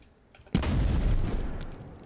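Frag grenade blast in Operator: Tier 1 at night: a sudden loud boom erupts after a quiet lead-in, followed by a long roaring, rumbling decay that fills the rest of the moment.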